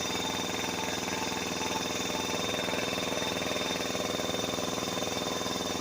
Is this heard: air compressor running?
yes